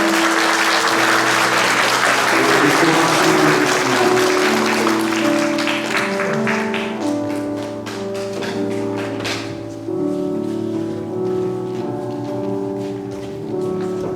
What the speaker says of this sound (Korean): 우리 큰 박수로 인사할 때 함께 차렷 인사